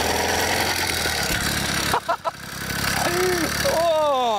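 A 50cc petrol engine fitted to a mountain bike runs with a loud, buzzing drone, cuts out briefly in the middle, then revs back up in rising, whining pitch sweeps.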